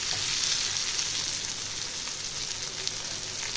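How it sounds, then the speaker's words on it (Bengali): A large eggplant cut into long strips fries together with onion in hot oil, giving a steady, close, even sizzle that holds without pause and has no voices over it. "পেঁয়াজটা আর বেগুনটা আমি একসঙ্গেই ভাজবো।"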